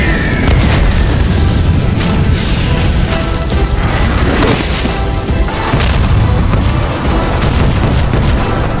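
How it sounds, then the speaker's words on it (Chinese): Heavy artillery fire and explosions rumble continuously, loud and dense, with deep booms and crashes overlapping into a sustained barrage and no speech. "外面的炮火越来越近了"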